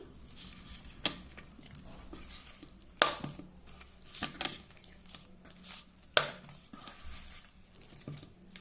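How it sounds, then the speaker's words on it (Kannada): Batter being stirred by hand after a couple of spoons of oil go in, with soft scraping and sloshing against the bowl and a few sharper clicks of the spoon on the rim. "ಈಗ ಅದನ್ನು ನೀಟಾಗಿ ಮಿಕ್ಸ್ ಮಾಡಿ"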